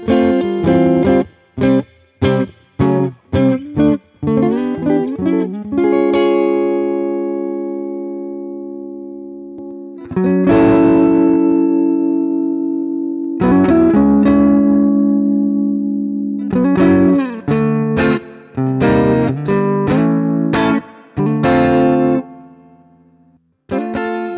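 Clean electric guitar played through a Fender Vibro King amp model in AmpliTube 5, picked notes and strummed chords ringing out with reverb and slight shimmer, pausing between phrases.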